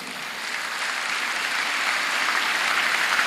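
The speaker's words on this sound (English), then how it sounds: "Let us clap for our Governor Hope." Crowd clapping at a graduation ceremony for a skills program cohort, a steady wash of applause that grows slightly louder over a few seconds with no voices on top.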